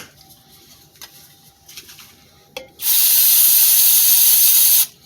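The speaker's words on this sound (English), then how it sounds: "usually like to use brake cleaner for this, but I don't have any right now. Carb cleaner's handy right here, so do the same thing. Clean it again." Carb cleaner sprays from an aerosol can onto small Briggs and Stratton 5hp engine parts, a loud continuous hiss lasting about two seconds, preceded by quiet clicks and light handling knocks.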